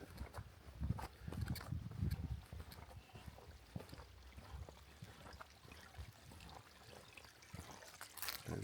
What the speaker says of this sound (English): one of my favorite things is to hike along a little babbling brook.